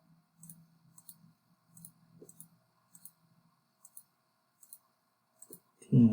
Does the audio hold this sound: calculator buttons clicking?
yes